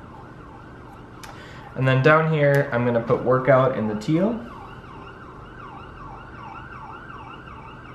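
An ambulance siren wails outside with a repeating up-and-down sweep, fairly faint and distant, heard under and after a woman's speech.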